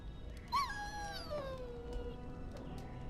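A dog whimpers and whines in Dragon Age Origins, a single high rising-and-falling cry early on trailing into a fading whine over a quiet background.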